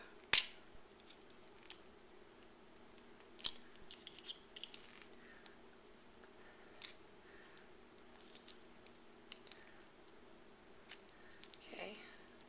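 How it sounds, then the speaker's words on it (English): Scissors snip a strip cut from a recycled plastic bottle in a few sharp, isolated cuts, quiet and close, with soft handling noises and low background hum between them. "it's way too long right now, so I'm going to cut it here"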